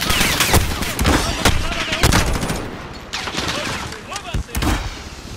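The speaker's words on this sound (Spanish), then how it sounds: "¡Ametralladora a las 12!" Bursts of machine gun fire in Call of Duty Modern Warfare campaign combat, loud rapid volleys and scattered shots mixed with battlefield noise and shouted voices.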